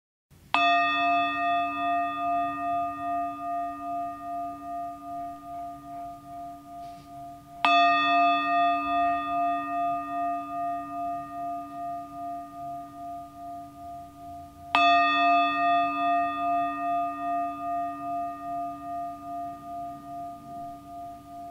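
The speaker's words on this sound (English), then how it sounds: "Like all meditations, we will begin and end with three bells." Three meditation bell strikes at evenly spaced intervals, each a clear ringing tone that slowly fades in a long sustained decay, heard alone in a quiet room.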